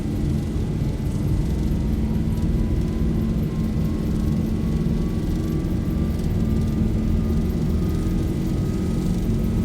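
Boeing 737-800 engines at takeoff power during the takeoff roll in the X-Plane 12 flight simulator, a loud continuous roaring rumble with a faint rising whine, steady throughout.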